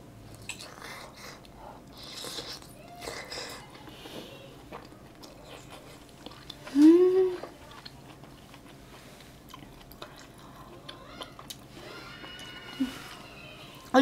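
Close, soft chewing and biting on freshly made chive dumplings, quiet and wet with a brief louder bite-like burst midway, no talking.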